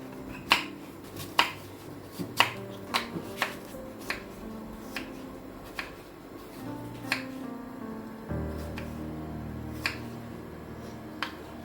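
A knife cuts peeled red apples into thin slices for an apple cake: a dozen or so crisp, sharp cuts at an uneven pace, close and fairly quiet over a faint low hum.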